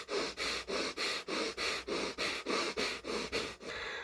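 A man imitates Breath of Fire breathwork with about a dozen rapid, forceful, evenly spaced nasal breaths in a steady loud rhythm.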